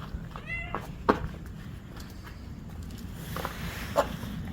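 A cat meows twice, a short call near the start and another near the end, amid quiet room noise and faint shuffling.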